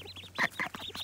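Small ducklings give a rapid run of soft, nasal quacks and peeps close by, overlapping one another in a brief busy chatter.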